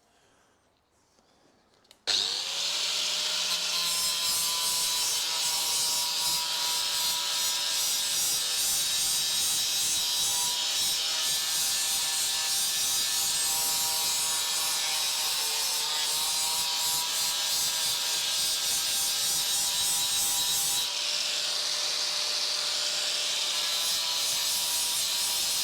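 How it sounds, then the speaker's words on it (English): Angle grinder scouring surface corrosion off a metal exhaust clamp on a 2013 Toyota Aygo 1.0 petrol: a loud, steady, close-up high-pitched whine that runs continuously for over twenty seconds, starting abruptly and dipping briefly near the end. "I'm just going to have a bit of a grind up round here to try and clean off some of this surface corrosion"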